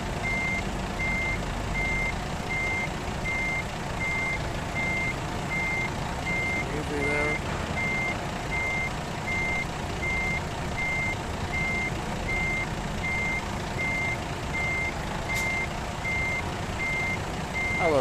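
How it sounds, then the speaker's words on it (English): Truck reversing alarm in American Truck Simulator, a steady high beep repeating through the whole stretch over a constant diesel engine rumble, with someone briefly talking. "Once we get this truck backed up here."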